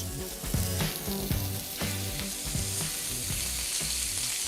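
Meat sizzling loudly on a hot griddle, a steady crackling hiss with occasional scraping and clinks, close and continuous.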